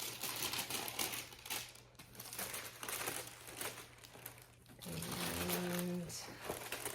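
Tissue paper rustles and crinkles while a Hermes purchase is unboxed, with soft, irregular handling noise running through the whole stretch and a brief tonal hum near the end.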